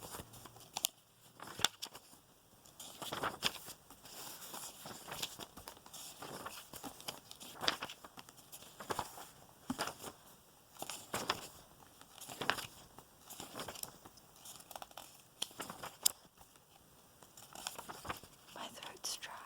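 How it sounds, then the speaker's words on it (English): Paper rustles and flips in irregular bursts, close and crisp, with soft breathy sounds between the turns. "Some page turning for you, John."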